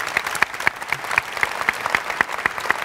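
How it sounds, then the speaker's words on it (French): Large conference audience at a Salesforce World Tour event in Paris applauding a guest, with crisp individual claps popping out rhythmically over continuous clapping and no talking. "Peut-être un peu d'applaudissements pour Cindy."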